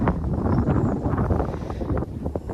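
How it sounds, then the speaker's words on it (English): Strong wind buffets the microphone in a steady, loud low roar with gusty swells at a house construction site, no voices present. "Windy."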